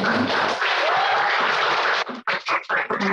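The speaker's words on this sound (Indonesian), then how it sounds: "Kasih tepuk tangan dulu dong." Audience applause at a talk, a dense burst of many hands clapping at once that breaks into scattered claps before fading.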